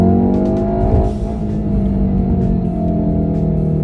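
An all-wheel-drive car with a dual-clutch gearbox accelerates hard, its engine drone rising steadily in pitch from inside the cabin, loud and continuous with no talking.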